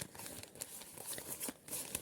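Small paper surprise packets crinkle close up, quiet, irregular crackling and rustling bursts scattered through the moment.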